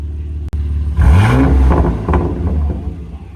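A single sharp rev from the S58 engine of a BMW M2 G87 fitted with a titanium Valvetronic exhaust climbs and drops over a rumbling idle, loud and close after a brief click.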